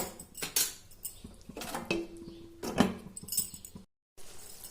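A spoon stirs and scrapes through palak soya curry in a cooking pot, giving several irregular metallic clinks and knocks at close range, then a short silence before the stirring resumes.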